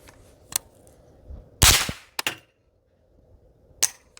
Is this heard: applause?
no